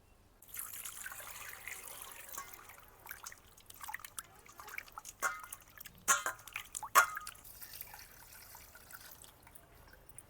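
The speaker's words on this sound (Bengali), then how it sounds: "এখন মাছগুলো ধুয়ে নেব।" Water runs and splashes softly while cut katla fish pieces are washed, a faint trickle with scattered drips and a few louder splashes near the middle.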